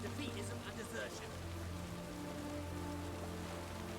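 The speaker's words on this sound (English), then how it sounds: "It's raining." Rainfall in The Witcher 3 hisses steadily and softly over a low ambient hum, with a few brief voice-like sounds early on.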